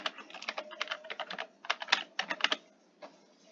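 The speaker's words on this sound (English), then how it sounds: "So let's go ahead and type happy birthday" Typing on a computer keyboard, close and clear, with rapid bursts of key clicks in uneven clusters, a short pause, then a few final taps, with no talking.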